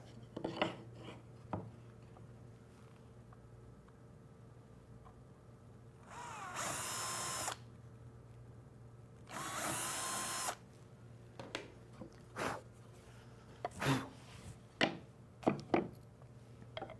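Two short bursts of a power drill whirring through a wooden cabinet drawer face, about a second each, separated by quiet handling noises and scattered taps and clicks.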